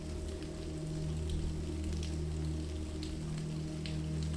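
Soft, steady rainfall with scattered patters of drops over a continuous low rumble, even and unbroken, with no voices.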